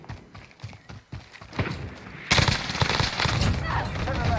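An airstrike landing in Call of Duty Warzone, starting as scattered thuds and swelling into a sudden loud run of overlapping booming impacts that keeps rumbling.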